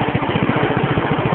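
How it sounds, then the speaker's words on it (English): A tractor engine runs steadily and close by with a throbbing, pulsing low rumble while its wheels spin and the tractor sits stuck. "Wheel spin."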